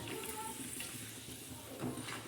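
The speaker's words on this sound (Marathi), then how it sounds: "साधी सोपी पद्धत तव्यावर पापड तळण्याची कमी तेलामध्ये" Soft, steady sizzling and crackle of papad frying in a little oil on a griddle, fairly quiet, with faint clinks and scraping near the end.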